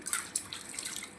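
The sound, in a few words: washing dishes under running water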